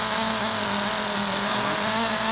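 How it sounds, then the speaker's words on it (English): A Traxxas Nitro Sport RC car's broken-in nitro engine runs with a high, buzzing whine, steady and fairly loud, with slight wavering in pitch as it holds speed. "This is a already broken in engine and starts up fairly quickly."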